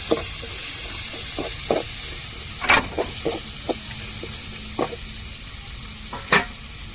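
Ginger and garlic stirred with tomato and onion in a hot pan, a soft continuous sizzle broken by repeated spatula scrapes and knocks at an uneven pace, no talking.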